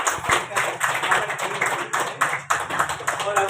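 A gathered audience claps loudly in welcome at a public meeting, dense continuous applause with bursts and swells, fairly close, talk faintly mixed in beneath.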